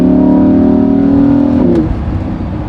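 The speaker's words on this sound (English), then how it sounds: "you can hear the exhaust a little bit in Corsa mode, and you get those kind of overrun burbles as well" Lamborghini Huracan V10 fitted with a Supersprint exhaust drones loudly at steady revs, then the note drops off into lower, rougher overrun as the throttle closes, heard close and alone.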